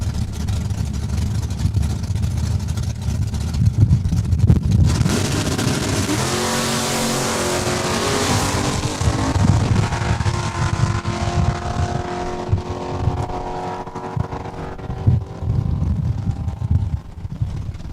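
Drag racing cars, including a Barracuda, roar hard off the line at a Saskatchewan raceway strip, a loud sustained engine blast with rising harmonic sweeps as they pull away, the roar thinning but continuing into the distance.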